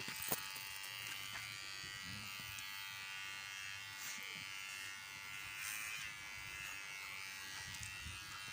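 Electric clippers shaving a dog's fur, a steady high buzz running continuously at low level while people talk faintly in Turkish.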